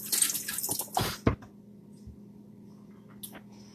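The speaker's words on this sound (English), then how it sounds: "Okay, I'm gonna wash my hands." Tap water runs briefly as hands are washed in a home kitchen while making guacamole, a loud splashing burst in the first second and a half, then quiet with faint clinks.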